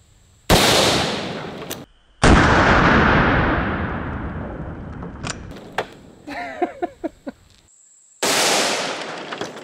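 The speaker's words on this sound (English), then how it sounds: "Shooting this one out of the Taurus Ultralight 44 Magnum revolver." Loud 44 Magnum gunshots from a Taurus Ultralight revolver fired into oobleck: two sharp, booming blasts with long ringing decays, a scatter of small clicks and rattles, then a third blast at the end, with no talking.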